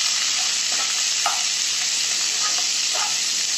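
Sliced onions with a pinch of salt frying in a pan for kadai paneer, a dense, even sizzle that fills the whole stretch, with a couple of soft spatula stirs near the start and end.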